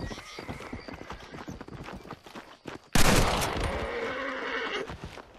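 Gunfire in the Red Dead Redemption video game, with a burst of loud shots starting midway over the steady clip-clop of horse hooves and brief talk.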